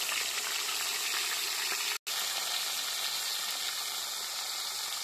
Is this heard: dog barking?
no